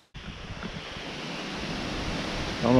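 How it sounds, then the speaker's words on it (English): Strong, steady wind buffets the microphone on a mountain overlook near the summit of Sharp Top at Peaks of Otter, a loud broadband roar that builds and swells louder toward the end, with no voice. "the wind is really wicked up here"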